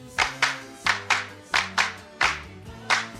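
Hand claps from a song, eight or so crisp, close claps in a syncopated pattern over sustained harmonium and bass tones, with no voices.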